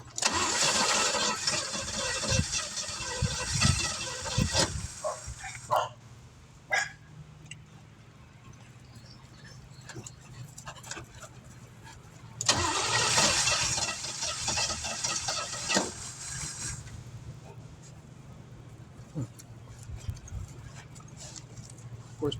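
Engine of a Chevrolet Nova crew cab cranking without catching, two long bursts of starter churn separated by a quiet gap with scattered knocks, fairly close and loud.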